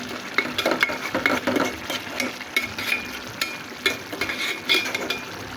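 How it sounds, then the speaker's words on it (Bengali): Tomatoes cooking in a pan are stirred with a utensil, giving repeated scraping and clinking strokes over a soft, continuous sizzle, close and fairly loud with no talking. "একটু হালকা নাড়াচাড়া দিয়ে দেব যাতে নিচে লেগে না যায়"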